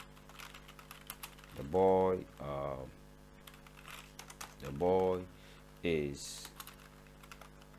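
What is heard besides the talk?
typing HTML on a computer keyboard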